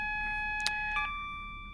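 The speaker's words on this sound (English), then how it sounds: "we'll cancel the alarm" A steady electronic alarm tone drones continuously in a train simulator game, with a couple of faint clicks partway through, the tone carrying on to the end.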